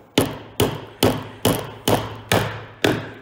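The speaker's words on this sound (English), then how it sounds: "what we're gonna do is we're gonna hammer in the nail" Seven sharp, evenly spaced hammer blows drive a nail into a wooden birdhouse, each strike close and loud with a quick decay and no talking.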